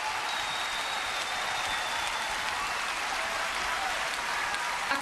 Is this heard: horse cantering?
no